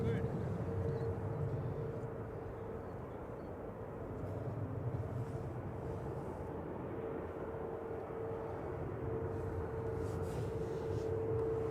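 An SAS airliner approaches Manchester Airport, a steady low jet engine roar with a sustained whine holding across the whole stretch, heard from a distance.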